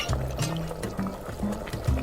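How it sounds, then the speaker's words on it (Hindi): Milk poured into a saucepan of sugar syrup and water, a steady liquid pour and trickle with faint bubbling close by. "अब दूध जोड़ें और अच्छे से मिलाएं।"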